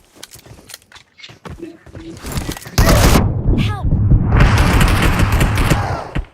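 Rapid bursts of gunfire and booms in a shooting video game, dense and loud in the latter half, mixed with clicks and game effects while players talk excitedly.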